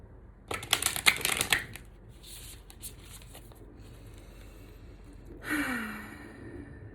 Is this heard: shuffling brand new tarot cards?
yes